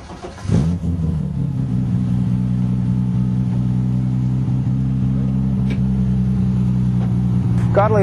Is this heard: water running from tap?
no